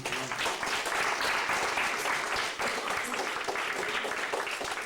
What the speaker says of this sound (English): let's give God a hand clap for them